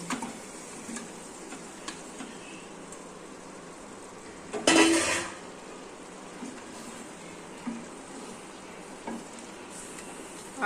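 Chicken meat dropped into a pan of frying onion, garlic, turmeric and garam masala, giving a sudden loud sizzle burst over a steady low frying hiss that then settles back to a quiet simmer with faint ticks.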